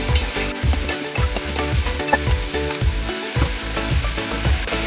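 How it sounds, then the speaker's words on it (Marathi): Onion frying in a pan with green chilli, a steady loud sizzle with bursts of crackling and low knocks of stirring running throughout, no voices. "आता हा कांदा आपण छानपैकी असा फ्राय करून घेणार आहोत."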